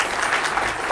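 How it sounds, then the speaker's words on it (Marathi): Audience applause at a Mahindra product launch event, a dense, steady wash of many hands clapping throughout, fairly loud and continuous with no voices on top. "तर त्यांच्याकरता जोरदार टाळ्या मिळतील पुन्हा एकदा."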